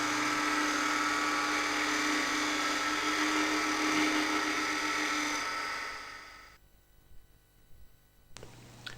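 A wood lathe spins a workpiece while a Robert Sorby multi tip tool shear scrapes the surface, a loud steady high whine with a harsh scraping edge that fades out as the lathe winds down, followed by quiet faint knocks.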